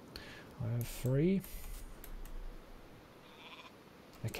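Sheep in the strategy video game Northgard let out two short bleats close together near the start, followed by soft game clicks and a faint background hum.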